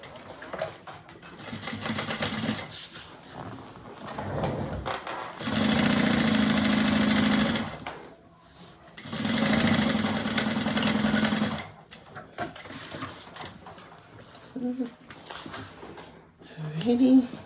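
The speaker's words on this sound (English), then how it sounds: "Sewing it on and then top stitching." A sewing machine top stitches a Rhoda bag in several loud, steady bursts of fast humming needle strokes separated by short pauses. A person talks between the runs.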